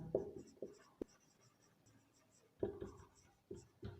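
Chalk or marker strokes on a board during a chemistry lecture on benzene, in short scratchy bursts with pauses between them, close and fairly quiet, with a sharp tap partway through.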